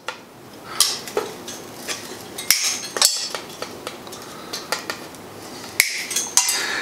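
Wire cutters snip off the excess wire of a Clampmaker clamp, giving sharp metallic clicks and clinks at irregular intervals amid small handling taps, close and fairly loud.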